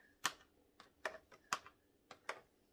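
A knife cuts set gelatin into squares, giving a series of sharp, quiet taps against the board at an irregular rhythm, close by and alone.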